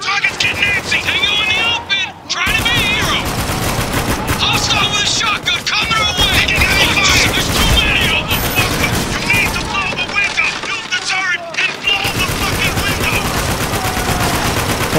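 Heavy gunfire in the video game Spec Ops The Line, dense automatic weapon bursts and rattling shots nearly nonstop and loud, mixed with in-game shouting and other battle noise.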